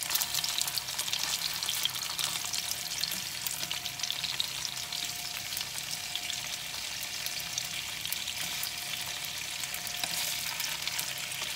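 Steady crackling sizzle of food frying in a small, thin pan, likely sausages, continuous and close with no pauses and no voices.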